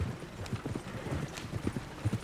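Horse hooves clip-clopping at a steady walking pace in Red Dead Redemption 2, a quick, fairly close series of soft thuds over a quiet background.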